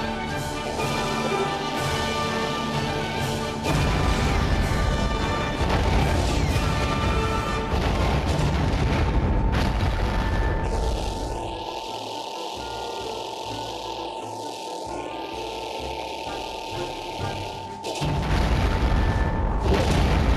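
Explosions of destroyed targets in the Nintendo GameCube game Star Fox Assault, a steady stream of booms and crashes layered over continuous game music and engine drone, loud throughout with a brief dip near the middle.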